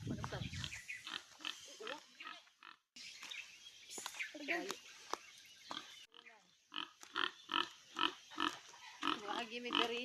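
Pigs grunting near a house in a rural province, short snorting grunts recurring through the clip alongside people talking close by.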